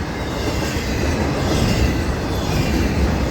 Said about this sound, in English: train I just filmed. You can pace the train here on US 1.